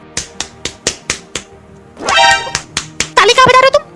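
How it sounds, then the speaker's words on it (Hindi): A run of sharp, evenly spaced hand claps, close and loud, followed by a burst of noise and a few more quick claps mixed with brief vocal sounds. "ताली कहाँ बजा रहे हो तुम?"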